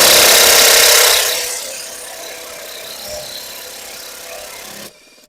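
A Grosser GID 230N cordless impact wrench driving a car bolt at about 120 newton-metres: a loud close hammering whir that ends after a second, followed by quieter rattling and handling noise before an abrupt cut.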